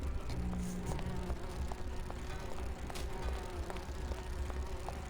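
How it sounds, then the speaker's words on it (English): Bees buzzing in the adventure video game Grim Fandango, a faint, steady droning hum with soft ticking game sounds over a low background, no one talking. "These bees don't seem too busy."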